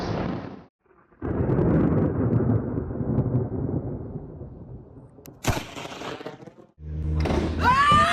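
Thunder from nearby lightning strikes in a storm rumbles in deep, heavy rolls, with a sharp crack partway through and another boom near the end, separated by short quiet gaps.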